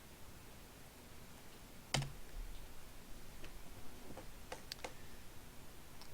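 Soft clicks of a computer mouse, with one sharper click near the start and then a scattering of lighter taps, some quick and close together as when shift-clicking, all faint against a quiet room hiss.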